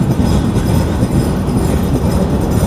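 A train rolling into Ishwardi Junction, Bangladesh's largest railway junction, on the Sagardari Express: a loud, steady low rumble of wheels and carriages with no voices over it.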